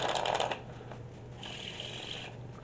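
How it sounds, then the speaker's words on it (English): A deck of playing cards being shuffled for a card trick, a quick riffling burst up front followed by a softer, longer riffle, close and fairly quiet with no speech. "we're just going to have the spectator shuffle the cards"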